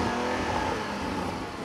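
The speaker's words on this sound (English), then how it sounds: "Large diffuser and twin exhaust pipes, which sound phenomenal." Porsche 718 Cayman GT4 six-cylinder engine through twin exhaust pipes, a loud, close, steady engine drone with a brief rise in revs, heard alone without voices.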